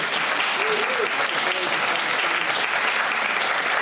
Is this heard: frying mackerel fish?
no